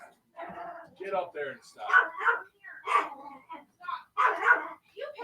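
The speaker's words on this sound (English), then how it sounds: "The dog's being attacked." A dog barks in a string of short bursts mixed in with someone talking over it, near and moderately loud.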